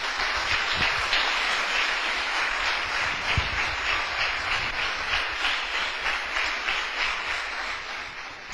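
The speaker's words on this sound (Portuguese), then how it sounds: "Dá uma salva de palmas para o Senhor." A church congregation applauds in a steady, moderately loud wash of clapping that continues evenly throughout, with a few low thumps underneath.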